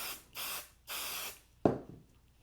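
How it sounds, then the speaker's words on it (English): Basting spray misted onto fabric for sewing, two separate hissing bursts from an aerosol can, close and clear, followed by a sharp clack of the can being set down. "We're gonna take our basting spray, okay?"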